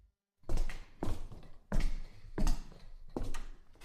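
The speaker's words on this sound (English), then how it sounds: "my feet touch the wooden floor, which feels slightly cool and smooth as I begin to walk across the room step by step" Footsteps cross a wooden floor in a room, about six evenly spaced, close and distinct thuds with a short rumble after each, alone after a moment of silence.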